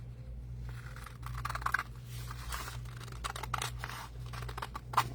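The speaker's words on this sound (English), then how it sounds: "I'm just going to cut this off real quick" Scissors cut fabric off a square pocket piece in a run of crisp, rapid snips and rustles, close up and moderately quiet over a low steady hum, with no one speaking.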